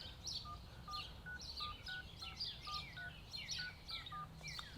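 Phone keypad dialing tones: a steady series of short, evenly spaced electronic beeps at moderate level, with birds chirping and tweeting continuously in the background.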